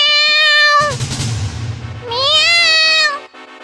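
A cat meows twice, loud and close, in a Hindi animated moral story: one long drawn-out meow, a short pause with low rumbling, then a second rising and falling meow.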